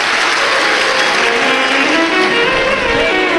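Loud, dense applause from a large audience at a religious Shiv Mahapuran katha gathering in Bhilai, many hands clapping vigorously and continuously without pause.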